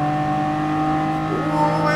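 An 800hp Aston Martin concept car in Gran Turismo Sport drones at a steady engine pitch while driving, holding a continuous loud hum that shifts slightly near the end, with no talk over it.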